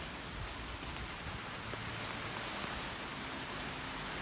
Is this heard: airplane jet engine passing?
no